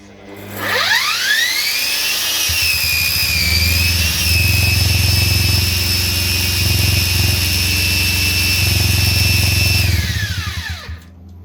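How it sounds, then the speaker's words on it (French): Aircraft engine starter tested on a starting bench after six months unused: a loud turbine-like whine rising in pitch, holding steady for several seconds over a deep rumble, then spinning down, with no talk. "Alors on va essayer ça, le starter."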